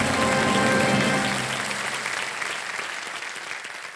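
Studio audience on the Hindi quiz show Kaun Banega Crorepati applauding a contestant's correct answer, a full wash of clapping that starts loud over a lingering musical tone, then thins and fades as the music drops away.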